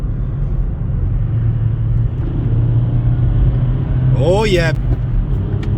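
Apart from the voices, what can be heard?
VW Golf V accelerating in third gear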